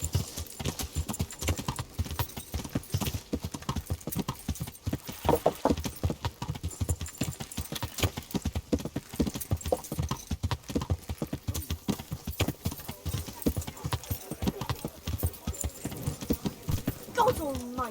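Horse hooves clop in a steady walking rhythm in the video game Kingdom Come, moderately close and fairly quiet, with voices speaking over them and a brief neigh near the end.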